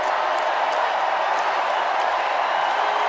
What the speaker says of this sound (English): I love the long applause.